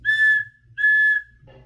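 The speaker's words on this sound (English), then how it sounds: "so she blew her silver whistle twice." A silver whistle blown twice, two long, clear, loud shrill blasts with a short gap between them, followed by a faint low rustle.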